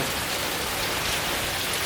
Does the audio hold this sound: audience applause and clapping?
no